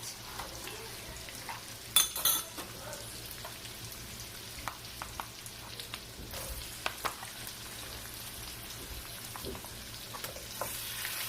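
Onions fry in a pan as pork is added for adobo, with a steady moderate sizzle and scattered utensil taps and scrapes, one louder clatter near the start.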